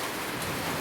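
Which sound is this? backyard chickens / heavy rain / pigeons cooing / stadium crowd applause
heavy rain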